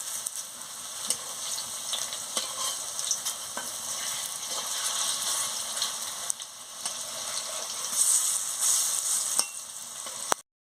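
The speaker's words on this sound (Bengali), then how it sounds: "আমি বড়াটা বসিয়ে দিচ্ছি" Cabbage fritters fry in hot oil in a pan with a continuous, close crackling sizzle and occasional light taps.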